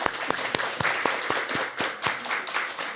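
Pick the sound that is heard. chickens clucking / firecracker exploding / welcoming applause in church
welcoming applause in church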